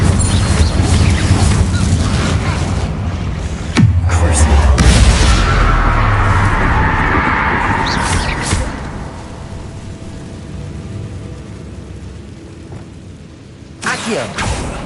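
A Confringo fire blast spell erupts in Hogwarts Legacy, a sharp bang followed by a rumbling, roaring burst that slowly fades, with a couple of further impacts near the end.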